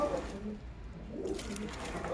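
Soft pigeon coos sound close by during a bath in potash water, low and steady over quiet background noise, with a brief lull midway.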